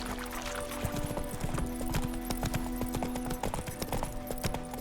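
Steady hoofbeats of Geralt's horse Roach galloping in The Witcher 3, a fast, even clip-clop close up over a faint humming game soundtrack.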